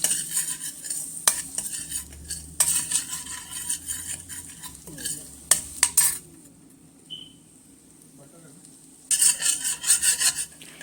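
Chopped garlic stirred in melted butter in a pan, with scraping and rubbing strokes in bursts over a soft sizzle, a quieter stretch midway, then brisk stirring again, close up with no voices.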